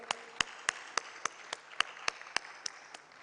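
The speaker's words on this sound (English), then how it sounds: "Let's welcome Kwame with a hand of applause." Sparse, evenly spaced handclaps at a tech dialogue event welcoming a telecom CEO, about a dozen sharp, distinct claps in a slow steady rhythm, close and clear with little crowd noise behind.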